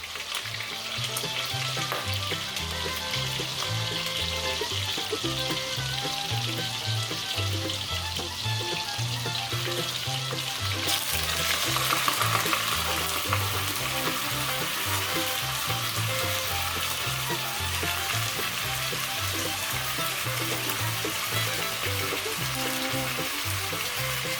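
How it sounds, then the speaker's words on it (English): Chicken sizzles and fries in a pan, a loud continuous crackling hiss with occasional stirring and scraping, growing slightly more intense midway before settling back to a steady sizzle. "and let it sizzle for a couple of minutes"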